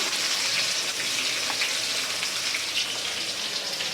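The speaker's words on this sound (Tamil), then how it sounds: "இது மட்டன் ஃப்ரைக்கு வெங்காயம் போட்டுக்கலாம். நல்லா வதங்கணும்." Onions frying in hot oil in a home kitchen for mutton fry, a dense, steady sizzle and crackle holding at the same loud level throughout with no voices.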